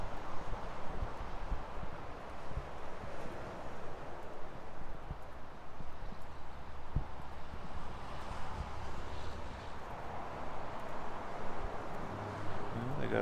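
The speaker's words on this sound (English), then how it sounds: "There was some pretty hefty gusts." Strong wind gusts sweep through the Columbia River Gorge near Multnomah Falls, Oregon, a steady, dense roar of buffeting air against the microphone that holds for the whole stretch with little letup.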